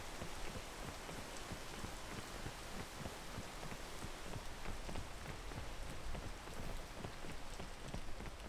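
Steady rainfall in the video game PEAK, a dense, even hiss of drops pattering on surfaces with no letup, heard alone at moderate level.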